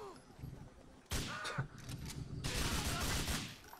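Gunfire in Grand Theft Auto IV, a loud burst of shots that breaks in after a quieter stretch and keeps going in dense bursts, with a voice briefly audible under the shooting.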